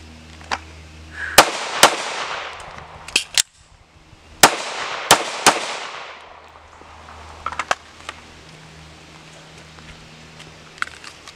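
A handgun fired from a magazine during slow, deliberate practice, several sharp loud reports spaced a few seconds apart, each with a short echo, and nothing else between them.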